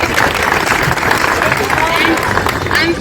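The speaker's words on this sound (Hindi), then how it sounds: "उनके लिए प्लीज़ आप तालियां बजा दीजिए" Audience applause for a hospital store keeper at an Independence Day function, a dense steady patter of many hands clapping close by with a faint murmur of voices beneath.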